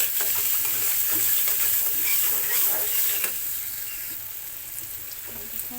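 Bitter gourd fries with fish in a hot pan, a loud, continuous sizzle and hiss close by, with soft stirring scrapes throughout and no talking.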